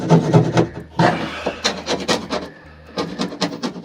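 Rhythmic scraping and rasping strokes of hand sanding fiberglass on a boat, close and fairly loud, repeating in quick bursts with brief pauses between.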